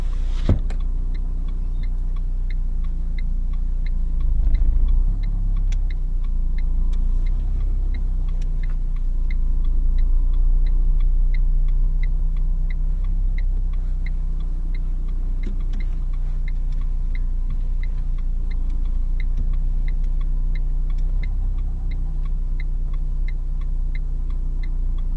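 A car idling and creeping slowly while parallel parking to the right during a driving test in Gennevilliers: steady low engine hum throughout, with a faint regular ticking like an indicator running above it.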